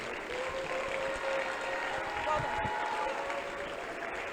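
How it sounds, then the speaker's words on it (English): Quiet audience applause after a university speaker's talk on the first day of a conference, a soft continuous patter of clapping with murmuring voices and a tonal hum beneath. "that applause is too small"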